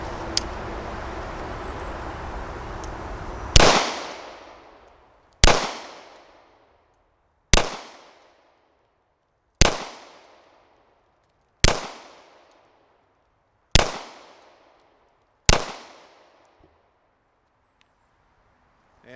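A Ruger SR1911 Lightweight Commander pistol fires seven sharp, loud shots spaced about two seconds apart outdoors, each followed by a decaying echo, after a short stretch of quiet ambient noise.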